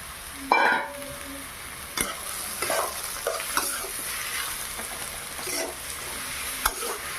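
Straw mushrooms fry with onions in a pan, a close crackling sizzle broken by several sharp spatula scrapes and knocks as they are stirred, with no one speaking.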